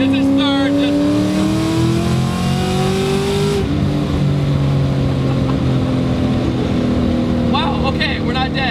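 A 700 hp E85-fuelled Ford Terminator Cobra accelerating hard, its loud, close engine note climbing steadily in pitch, dropping sharply at a gear change, then winding up again.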